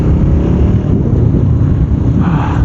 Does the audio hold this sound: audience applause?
no